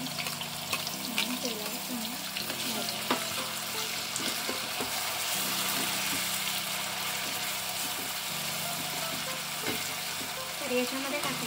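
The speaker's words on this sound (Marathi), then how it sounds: "तर याच्यामध्ये टाकलं खोबरं, टोमॅटो, कांदा आणि अद्रक आणि लसूण." Coconut, tomato, onion, ginger and garlic frying in oil, a steady close sizzle with occasional stirring scrapes, someone talking over it throughout.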